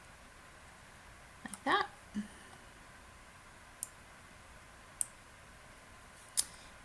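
A computer mouse clicks several times as an image is dragged and resized in Google Forms, sharp isolated ticks spaced a second or so apart, with a brief spoken phrase near the start.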